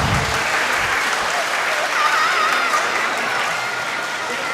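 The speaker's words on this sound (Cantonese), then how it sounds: "我哋再俾啲掌聲，多謝佢哋哦" An audience at a children's choir Christmas concert claps steadily in a dense, continuous round of applause that holds evenly for several seconds before easing slightly.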